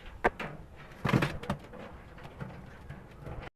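A female Indian Madras pigeon coos in low, soft bursts, with brief louder clatter and rustling near the start and middle.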